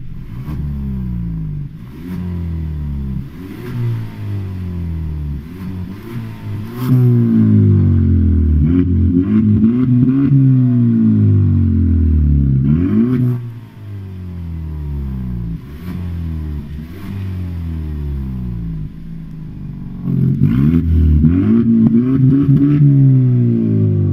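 A Kia Stinger with an active exhaust and its valve closed revs repeatedly, deep engine sweeps rising and falling in several loud bursts, close and alone with no talking.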